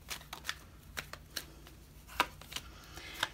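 Tarot cards being shuffled and drawn, a series of soft papery flicks and snaps spaced irregularly, close and fairly quiet with no talking.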